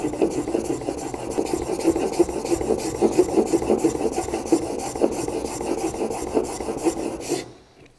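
A chisel is rubbed back and forth on an inexpensive 1000-grit water stone, giving a continuous, close, rhythmic gritty rasp that stops abruptly near the end.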